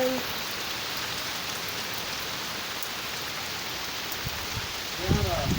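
Rain falls steadily outdoors, an even hiss of drops on surfaces that continues throughout, with voices breaking in briefly near the end.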